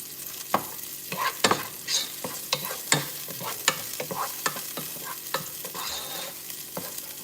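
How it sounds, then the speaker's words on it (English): Vegetables for a homemade veggie soup are sautéed in a pan: a soft sizzle runs underneath while a utensil scrapes and taps the pan in an irregular series of sharp, close strokes, with no talking. "So I want to saute them down a little bit."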